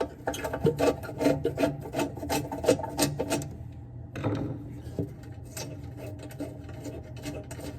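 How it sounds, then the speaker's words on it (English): Metal air tube being gripped, pulled and slid out from inside a Napoleon NZ3000 or NZ6000 gas fireplace, giving a rapid run of close scraping, rasping rubs, a short pause, then softer sliding scrapes. "Now you grab the tube, pull it out, and then you slide it out that way."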